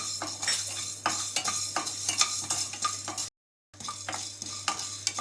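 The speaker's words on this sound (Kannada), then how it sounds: "ಮೆಣಸು ಹುರಿದಿದೆ. ಮೆಣಸು ಸ್ವಲ್ಪ ಚಿಟಪಿಟಿ ಅನ್ನತ್ತೆ" Black pepper dry-roasting in a pan, stirred with a utensil so it scrapes and rattles in regular strokes over a light crackle, with one short silent gap partway through.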